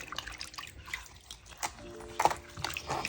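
Paper banknotes are scrubbed by hand in a liquid wash, giving soft close splashes, drips and wet rubbing in uneven bursts at a low level.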